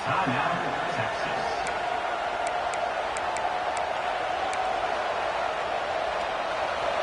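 Dense roar of a big American football stadium crowd on third down, constant and loud, with scattered sharp whistles and shouts rising over it.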